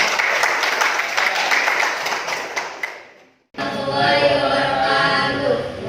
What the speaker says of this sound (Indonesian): Kasih tepuk tangan untuk kerajaan.